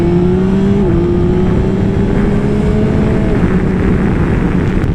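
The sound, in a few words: 2021 Yamaha Tracer 9 GT motorcycle engine with standard exhaust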